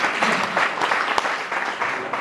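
An audience at a business networking gathering applauds a guest partner. Dense, continuous clapping carries for about two seconds, fairly loud and close, with faint crowd murmur underneath.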